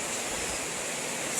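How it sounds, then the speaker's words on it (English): A river at a gold panning spot rushes in a steady, full broadband roar that stays even and fairly loud throughout, with no speech. "Look at that river, sun's coming out."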